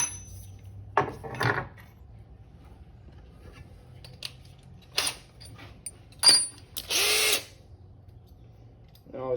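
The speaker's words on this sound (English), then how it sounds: "I always start by drilling a pilot hole because it's a lot quicker than starting with the biggest bit that you have" A power drill bores a pilot hole for a trailer hitch on a 2003 Kia Spectra in several short, close whirring bursts, the last one longer, with light metallic clinks and handling noises between them.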